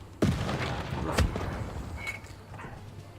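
A tank takes a rough hit in Civilization 6 combat: a sharp gunfire-like boom opens, followed by a second thud and a fading rumble, loud and close with no talk.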